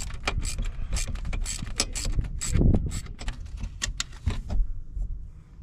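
A ratchet backs out bolts on a BMW 335i with an N54 engine: close, rapid metallic clicking in repeated bursts with a few heavier knocks, and no talk.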